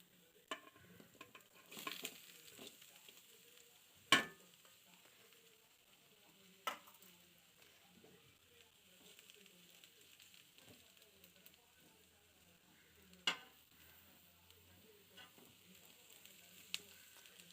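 Grated beetroot frying with onions in a pan, a soft continuous sizzle broken by a few sharp clacks of a spoon stirring against the pan, fairly quiet and close.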